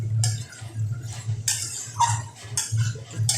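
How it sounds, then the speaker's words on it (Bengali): A metal spoon scrapes and stirs spiced okra (bhindi) in a pan in a home kitchen, with repeated close clinks and rasping scrapes in an uneven, steady rhythm. "দেখুন, এইভাবে ভালো করে মশলাটাকে আমি মিশিয়ে নিচ্ছি ভেন্ডির সাথে।"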